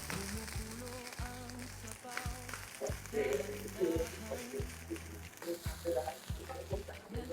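Chao fan fried rice seasoned with Magic Sarap is stirred in a pan, giving a soft sizzle and scraping that rises and falls in bursts over a steady low humming drone.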